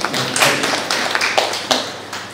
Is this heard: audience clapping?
yes